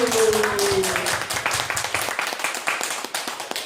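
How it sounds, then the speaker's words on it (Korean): A church congregation at a Korean worship service gives a round of applause, loud close clapping with a sustained tone over the start, settling into rhythmic claps that gradually thin out. "하나님의 영광의 박수."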